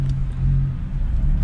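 A car with a VQ engine cruises, a steady low engine drone and rumble heard up close with no other sounds over it.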